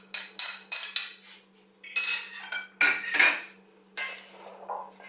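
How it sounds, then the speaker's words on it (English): Metal utensils clink and scrape against a bowl while a mixed bean salad with fresh mint and dressing is tossed, in several bright bursts of clattering with short pauses between, close and fairly loud. "Give that a little mix around"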